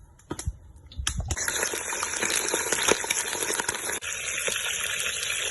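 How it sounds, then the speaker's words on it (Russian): Roughly 300 to 400 grams of cooking oil is poured into a kazan for chicken kazan kebab. A few sharp clinks come first, then a steady rushing pour starts about a second in and runs on loud and continuous, with no talk. "Масло грамм 300, 400 добавляем, чтобы было удобно прожарить мясо и картошечку"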